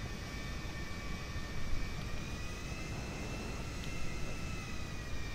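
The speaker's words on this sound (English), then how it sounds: "There's another private jet over here. I'm gonna grab that one." Private jet engine in the video game GTA Online, a steady broad roar with a thin high whine above it, constant and fairly loud, no voices over it.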